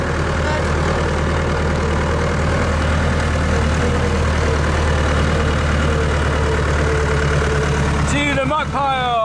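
Farm tractor engine idling steadily with a deep low rumble throughout, loud and close, with an engine note shift near the end.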